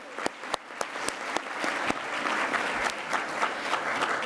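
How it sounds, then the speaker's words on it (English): An audience at a healthcare conference applauds, with a few sharp early claps building into steady, dense clapping that carries on for several seconds. "Can I get another round of applause for them"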